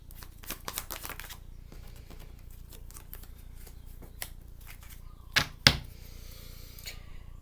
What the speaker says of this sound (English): let me get the rest of these cards out so we can see what's going on here